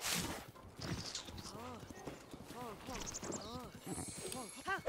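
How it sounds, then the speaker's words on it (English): Horse hooves clip-clop in Zelda Breath of the Wild, a steady patter of footfalls running under almost continuous talking, with a few brief higher effects near the end. "Hey look, some more horses."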